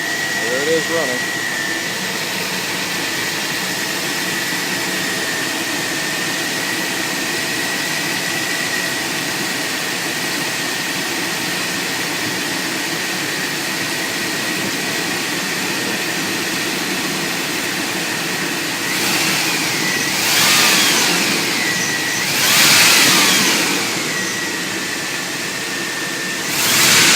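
A truck's 350 engine with a MagnaFlow exhaust idles with a steady, close rumble, then revs in a couple of brief bursts near the end before settling back.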